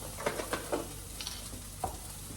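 Tomato paste goes into a hot pan with a soft sizzle, a few light spoon clicks and scrapes against the cookware, fairly quiet and close.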